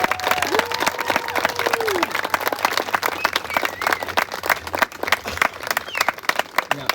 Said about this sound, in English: can we please give them a round of applause for their efforts thus far